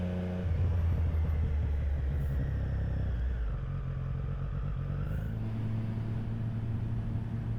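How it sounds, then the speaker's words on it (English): Several heavy Harley-Davidson motorcycle engines rumble past nearby, their deep throbbing pitch shifting as they pass, over steady road noise. "Oh, we got a lot of motorcycles coming up."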